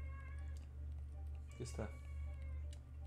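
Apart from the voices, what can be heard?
cat meowing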